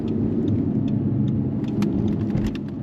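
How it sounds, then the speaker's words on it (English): An Audi R8 drives along with a steady, close engine and road rumble heard from inside the cabin, with light clicks and ticks scattered over the continuous drone. "All right, so driving the"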